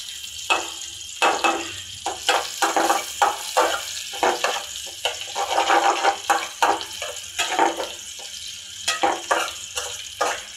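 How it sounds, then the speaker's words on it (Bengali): Fish, such as katla, frying in a pan with ginger and garlic, giving a steady crackling sizzle with repeated bursts of spitting oil, fairly close and with no talk over it. "একটু ভাজা ভাজা হোক।"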